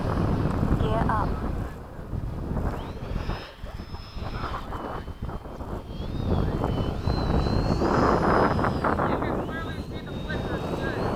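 A Hobby King Avios MiG-17 RC jet flying on a discharged battery, its whining electric ducted fan rising and falling in pitch as it passes, heard over steady wind noise with voices talking nearby.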